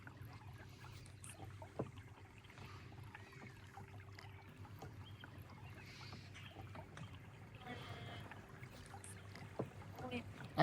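A canoe glides slowly through the Okefenokee swamp, its paddle strokes faint and soft over a low, steady ambient hum, with an occasional light splash and a slightly louder knock at the very end.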